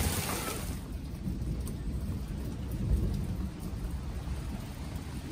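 Thunder from a passing thunderstorm in Alaska rolls as a steady, deep rumble over the hiss of rain, continuous and fairly loud throughout.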